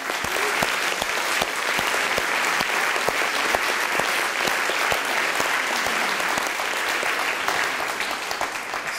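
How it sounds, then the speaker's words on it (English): Audience in a lecture room giving a sustained round of applause: many hands clapping densely and evenly for several seconds, with a few sharper individual claps standing out through the wash. "Let's give these people a round of applause."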